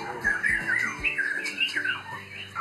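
A white-rumped shama (murai batu) sings a busy, varied song of bright chirps and whistled phrases, continuous and fairly close, with no talk.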